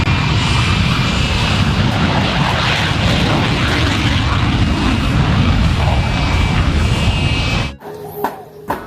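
Loud, steady roar of a fighter plane sound, likely from a toy, droning continuously up close before cutting off abruptly near the end.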